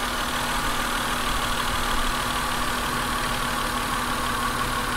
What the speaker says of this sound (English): Oh man, she starts right up. She really does. Boy, it's running well. Even on 5 cylinders, she still runs.